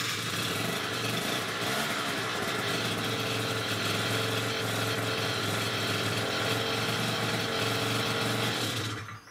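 A Peugeot Speedfight 3 50cc moped scooter, freshly fitted with a smaller carburetor, runs steadily up close with a loud, buzzy two-stroke drone that holds even throughout before cutting off at the end, with no speech.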